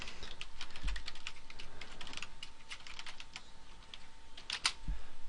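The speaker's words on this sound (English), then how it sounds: "You could type anything that you would like." Keys clacking in quick bursts on a computer keyboard while a search is typed, with brief pauses between runs of strokes, close and clear with no voices.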